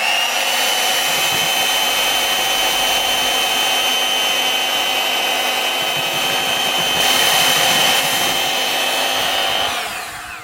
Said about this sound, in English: back to the mixer and use number 1 again